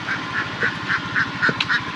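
Small ducks quack nearby in Da Nang, Vietnam, in a quick, regular series of nasal calls. A few louder squawks overlap near the end.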